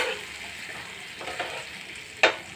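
Water goes into a sizzling pan for prawn malai curry, a steady crackling fry with a brief sharp hiss burst near the end.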